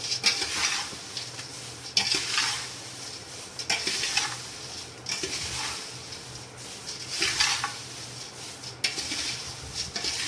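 Thin poha chivda being stirred and mixed in a hot pan: repeated bursts of dry scraping and rustling at close range, roughly every one to two seconds, over a low continuous sizzle, with no talking.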